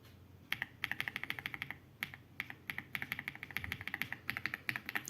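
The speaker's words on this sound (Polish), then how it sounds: "A tutaj dla porównania mamy klawiaturę Aula F99 Pro." Typing on an Aula F99 Pro keyboard, a steady run of crisp, close keystroke clicks in quick bursts with brief pauses, alone without talk.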